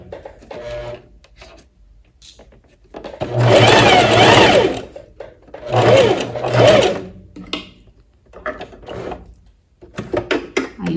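A sewing machine runs a fabric seam on a lined tailored vest in two separate bursts of stitching, the first longer and louder, with quiet pauses and small handling noises between them.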